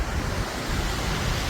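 A partly frozen waterfall in Tallinn, Estonia, flows fast, giving a steady, loud roar of rushing water with wind buffeting the microphone and no speech.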